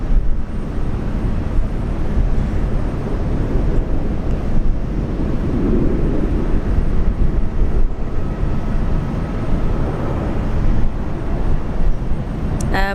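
An airliner touches down at Brisbane International Airport at sunset, a continuous loud low engine rumble with wind noise that swells slightly midway and holds steady without any talk.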